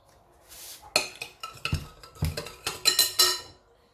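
Yogurt and salt being mixed into flour in a bowl for puri dough, irregular clinks and scrapes of a utensil against the bowl, close and moderately loud with no talking.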